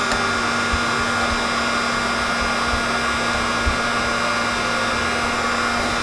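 Steady, loud rushing blow of a heat gun pushing hot air onto an arcade control panel overlay to peel it off during a Galaga restoration, with a constant motor hum and airflow and no talking.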